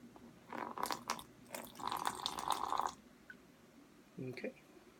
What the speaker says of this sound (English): now we're going to pour it in our sterile field